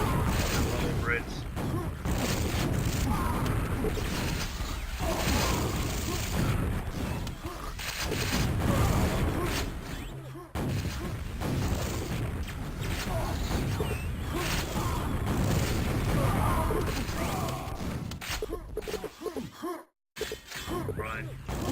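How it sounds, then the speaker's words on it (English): Rocket launchers fire and explode in a Quakeworld match, a dense, busy run of thuds, blasts and metallic clanks that keeps going throughout, with a short silent gap near the end and speech mixed in. "My guy is hitting some crazy rockets from the low bridge."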